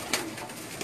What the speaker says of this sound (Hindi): ये इनके कबूतर हैं।